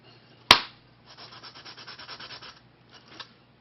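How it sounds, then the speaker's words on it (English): A sharp knock, then a steady back-and-forth scratchy rubbing of a sanding stick on wood in quick strokes while making a Native American flute, pausing briefly before a couple more strokes. "I'm also going to use my sanding stick to clean that up a little bit"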